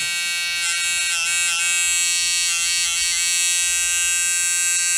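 A small electric nail drill motor whines steadily at high pitch, close and fairly loud, running continuously without pause.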